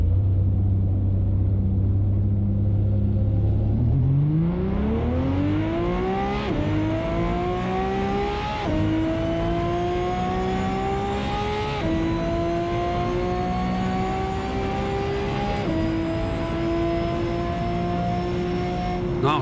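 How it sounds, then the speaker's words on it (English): A Ferrari in Assetto Corsa pulls away from idle and climbs through the gears, its engine note rising in repeated sweeps with a high jet-like whistle layered over the roar, loud and close. "this thing sounds like a damn jet. The whistling sound that you're hearing from it"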